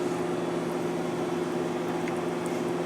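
A microwave oven runs with rice and broccoli cooking inside, giving a steady, even electrical hum with a low drone that holds unchanged throughout.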